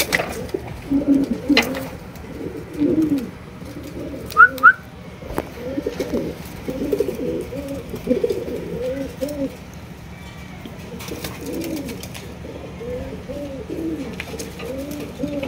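Potter pigeons coo softly in a loft or cage: a run of low, rhythmic cooing phrases at close range, with a few brief chirps and light handling noise behind.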